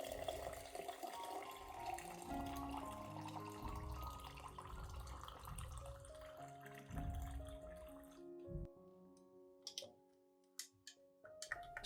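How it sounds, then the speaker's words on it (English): Warm water pours steadily into a container holding crushed eggshells, the pitch rising as it fills, then stops, followed by a few small clinks and taps. "Then add about 500 milliliters of warm water."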